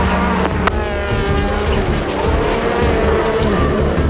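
Rallycross race cars roar around the track with Faust and Sandell leading, engines loud and close in a continuous snarling blend, tires squealing and gravel hissing underneath.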